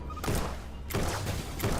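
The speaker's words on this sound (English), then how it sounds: "Explosion's not that big, so we just gotta take care of it the old-fashioned way" Several muffled booming explosions from enemies in the video game Starbound, three dense bursts of rumble spaced across a couple of seconds, fairly loud with game audio underneath.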